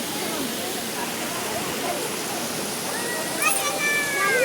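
A waterfall at Harishankar Temple in Balangir district, Odisha, gives a steady moderate rush of falling water and cold stream flow, with a few faint whistles or bird-like tones near the end.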